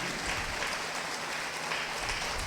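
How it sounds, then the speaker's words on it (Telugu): Steady applause from a church congregation at a sermon, a dense, even wash of many hands clapping throughout, with no voices over it. "గట్టిగా చప్పట్లు కొడదామండి."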